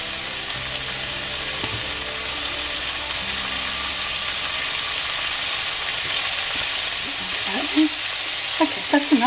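Garlic fries in a pan for a chicken pad see ew, giving a steady hissing sizzle with occasional stirring scrapes near the end.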